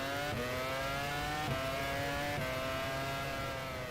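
Formula One race car engines from the video game F1 Challenge 99-02 at the 2004 French Grand Prix wail at a steady high pitch, with quick gear-change steps in the engine note, loud and close throughout.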